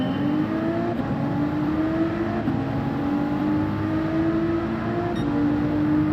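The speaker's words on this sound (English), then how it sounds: "Hear all the engines roar." Race car engines in Gran Turismo 7 hold a steady loud droning whine, pitch creeping slowly upward as the cars run on together without pause, nobody talking over it.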